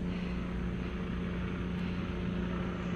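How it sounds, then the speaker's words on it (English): A surveillance aircraft circles overhead above a persimmon-growing garden, a steady, distant droning hum that fills the whole stretch without a break. "it is just a normal occurrence to have surveillance flights at top"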